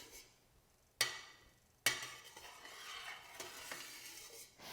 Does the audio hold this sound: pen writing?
no